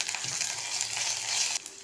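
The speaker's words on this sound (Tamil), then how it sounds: "சேர்த்து நல்லா வதக்கி விட்டுறலாம்." Ginger-garlic paste sizzles in a hot pan while a chickpea (sundal) masala is cooked, giving a continuous loud frying hiss with a brief dip near the end.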